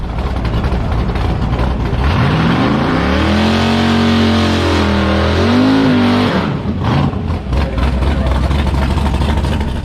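A Tesla Plaid and a Mazda RX7 race a quarter-mile drag strip; a loud, close engine climbs in pitch through a long rising run, then drops away with a rushing roar.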